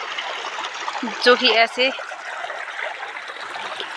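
Village stream water flows in a steady broadband rush throughout, near and continuous, with someone speaking briefly over it near the middle.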